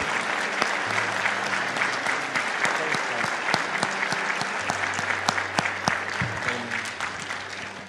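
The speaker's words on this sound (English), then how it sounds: "Let's give them a nice clap." A church congregation gives sustained applause, a full wash of clapping with sharp individual claps standing out, a low hum running beneath and faint voices mixed in.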